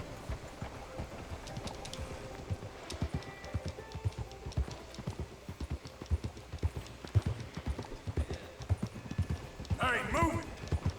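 A horse ridden in the video game Red Dead Redemption 2, steady rhythmic clip-clop of hooves throughout, with a voice talking over it and a brief whinny near the end.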